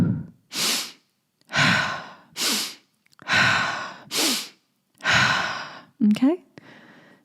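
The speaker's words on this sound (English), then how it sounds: "start off with a nice easy inhale through the nose, exhale out the mouth" A guided breathwork exercise: slow, audible breaths in through the nose and out through the mouth, several distinct airy inhale-exhale cycles in a steady rhythm, close and clear, with a short voiced breath near the end.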